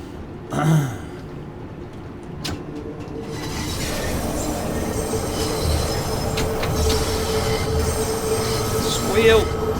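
Wheels of a 72 Stock Bakerloo Line train squeal in the video game Train Sim World 2, starting with a loud squeal, then a rising rumble of the moving train with a high, sustained screech toward the end.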